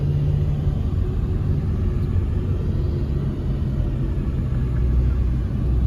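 A car pulls away in Dubai, heard from inside as a steady, deep engine and road rumble, continuous and fairly loud, with no talking.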